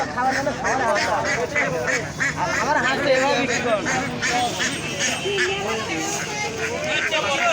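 Local ducks quack amid a busy market crowd, their calls mixed into loud overlapping chatter, bargaining and bustle.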